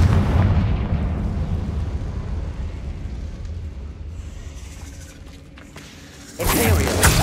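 A fiery Confringo spell explosion in Hogwarts Legacy bursts with a heavy low boom that fades into a rumbling tail, followed by another sharp burst near the end.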